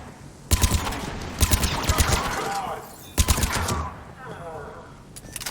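Gunfire in the video game Mass Effect 3 as a firefight breaks out: several bursts of rapid automatic shots, loud and close, with brief pauses between volleys and dense crackling impacts.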